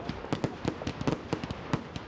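Fireworks crackle and pop repeatedly on Bonfire Night, a rapid irregular series of sharp bangs at moderate distance, with no voices.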